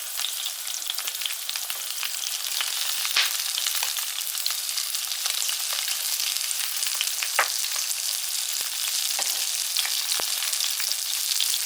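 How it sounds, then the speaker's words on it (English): Prawns sizzle steadily in hot frying oil for a seafood dish, a constant hiss dotted with small crackles and pops. "nothing like the nice smell of sizzling oil"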